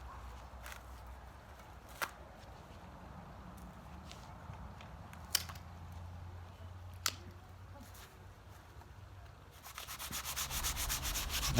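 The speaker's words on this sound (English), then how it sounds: "I had some sandpaper lying around, so I used that to additionally sort of round the top of where the old petioles used to be" Sandpaper rubs against the trunk of a windmill palm, rounding the old petiole stubs with a soft, steady scratching that turns louder and harsher toward the end, marked by a few sharp ticks.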